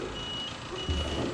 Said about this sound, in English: I wish you could shut that buzzer off